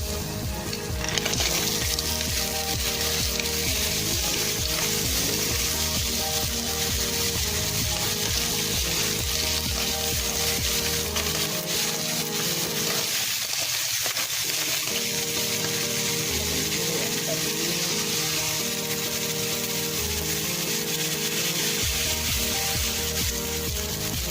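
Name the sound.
mussels being added to a cooking pot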